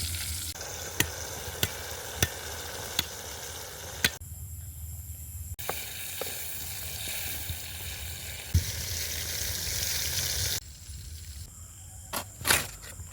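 Quail meat cooking with masala in a pot in a village kitchen: a steady, loud sizzle and bubbling, punctuated by regular sharp taps of a ladle stirring against the pot.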